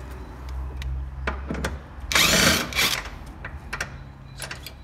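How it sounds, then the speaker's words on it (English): A 15mm socket wrench works on car seat bolts in a Honda FN2, giving a sharp burst of ratcheting clicks in the middle, with scattered metallic ticks and a low hum before and after. "So we're going to use a 15mm socket."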